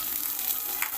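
Shallots sizzle and fry in a hot pan, a steady broadband hiss with a brief brighter crackle near the end, close and alone with no voices.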